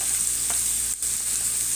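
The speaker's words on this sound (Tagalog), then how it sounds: "Prito muna saglit, mamaya na natin siya timplahan, no?" Chicken liver fries in hot oil for adobo, giving a steady, even sizzle throughout with a brief dip in the crackle and no voices.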